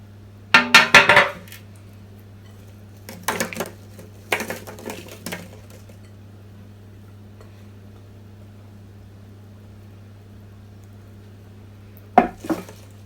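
Mixed potato fries being tipped and spread onto a metal oven tray: clattering metallic scrapes and clinks in short bursts, then a long quiet stretch before a final clatter, over a low steady hum.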